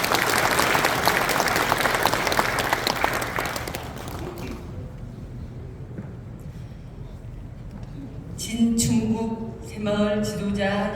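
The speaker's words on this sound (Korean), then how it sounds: "함께 인사드리면 큰 박수 부탁드리겠습니다" Residents at a town hall meeting with the mayor in Nampyeong-eup, Naju, give loud, dense applause that tapers off after about four seconds. A voice begins speaking over a microphone near the end.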